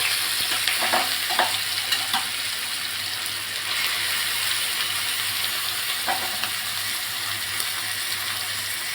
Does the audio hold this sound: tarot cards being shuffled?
no